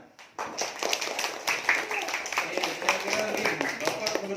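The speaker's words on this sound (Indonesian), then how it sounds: "Terima kasih anak-anak sekalian. Tepuk tangannya mana?" Schoolchildren in an Islamic studies classroom lesson clap along with quick, fairly regular hand claps, their voices chattering and chanting over the clapping throughout.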